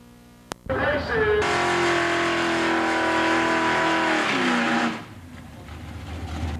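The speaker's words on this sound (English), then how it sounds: "Wayne Bowman fries the tires as he gets ready to race Lee Evenson from Pendleton, Oregon." A drag racing car does a tire-frying burnout before a run at a 1990s drag event: a loud, close engine roar with a sliding pitch over hissing tire noise, sustained for about four seconds before it cuts back to a quieter idle.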